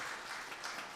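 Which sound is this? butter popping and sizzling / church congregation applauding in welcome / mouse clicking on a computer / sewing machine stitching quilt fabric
church congregation applauding in welcome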